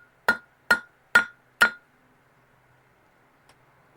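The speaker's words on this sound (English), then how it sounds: "That's what we get for hammering like cold steel, right?" A hammer strikes steel at a blacksmith's forge during chain-link forge welding, four sharp ringing blows at an even pace, then a pause and a faint tap before another strike.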